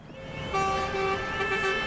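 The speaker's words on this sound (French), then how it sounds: "Sous les klaxons des automobilistes qui soutiennent l'action" Car horns from passing motorists sound beside a roadside protest by oyster farmers of the Arcachon basin near Bordeaux, with overlapping sustained toots of different pitches blaring close and loud over traffic noise.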